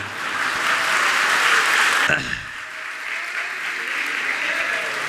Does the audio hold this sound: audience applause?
yes